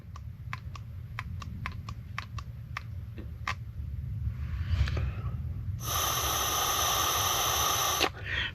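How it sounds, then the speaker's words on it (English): Air is forced through a Mercury 25hp four-stroke EFI outboard valve on the bench. A run of crisp clicks gives way to a loud, steady hiss lasting a couple of seconds, close by, before it cuts off sharply. "There's air coming through it."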